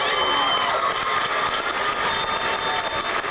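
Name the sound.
applause for the department chairpersons at a graduation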